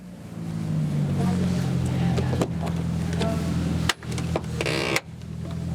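A classic 2.5-litre diesel Range Rover with a manual gearbox runs with a steady low engine drone, close and continuous, with a few clunks and knocks and someone talking over it.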